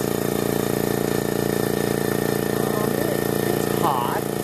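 A Makita MAC700 Big Bore 2.0 HP air compressor runs steadily while building pressure, its engine drone loud, close and unbroken, with a few faint clicks near the end.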